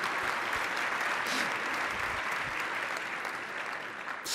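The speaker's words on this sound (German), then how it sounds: "Applaus" Sustained applause from a lecture audience at a popular physical chemistry talk on lasers, dense and steady throughout, with no clear voices above the clapping.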